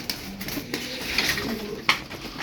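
Ankara tumbler pigeons, a flock of about eleven play birds, coo softly in a loft, with low murmuring calls repeating over faint background clatter and no talk.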